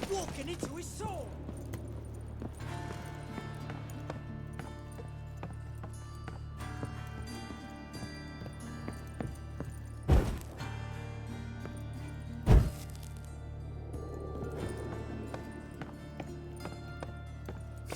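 Horse hooves clip-clopping at a gallop during a chase in The Witcher 3, a faint rhythmic patter under game music and talking voices, with a couple of sharp thuds.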